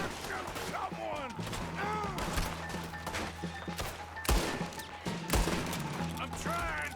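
A Red Dead Redemption 2 gunfight, with rapid bursts of gunfire and heavy shots cracking close and loud, mixed with shouting voices across the whole stretch.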